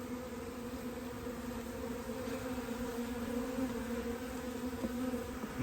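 Swarm of honey bees buzzing around a hive box on a roof, a dense, steady drone holding at a constant level throughout.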